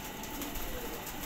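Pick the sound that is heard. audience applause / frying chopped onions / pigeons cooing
pigeons cooing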